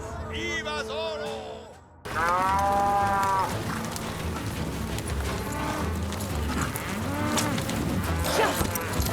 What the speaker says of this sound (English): 200 head of cattle, you said.